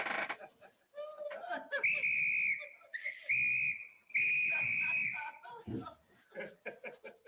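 A shrill whistle blows in a movie scene, with several sustained blasts of varying length among bursts of voices and background chatter.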